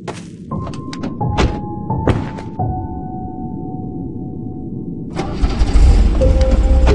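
A truck engine in a video game cranks with a few heavy thunks, then settles into a steady idle hum before revving louder near the end.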